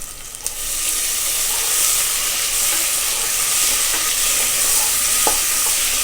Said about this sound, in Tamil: இப்போ வெங்காயம் தக்காளிலாம் ஓரளவு வதங்கிருச்சு நம்ம ஒரு தக்காளி ஆட் பண்ணிடலாம்